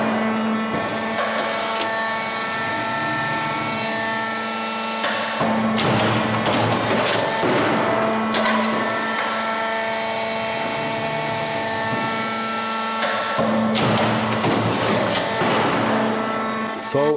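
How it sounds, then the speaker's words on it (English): A Schlebach SPM TWIN profiling machine cutting automatically, a loud steady whirring drone with sharp metallic clattering bursts at regular intervals. "Now once the machine is set up, I can start the system and we cut automatically."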